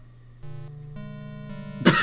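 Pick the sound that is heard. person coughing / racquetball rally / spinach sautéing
person coughing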